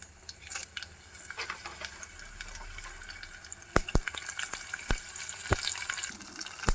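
Hot oil crackles and sizzles in a pan as chana dal, urad dal and cumin temper, with sharp pops scattered irregularly through a steady hiss, close and fairly quiet.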